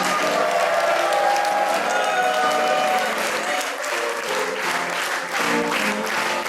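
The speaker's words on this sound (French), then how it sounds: "mais applaudissez-le, c'est David Pili, l'arbitre" Theatre audience at an improv match claps loudly and continuously, thick applause mixed with crowd noise and some cheering and voices throughout.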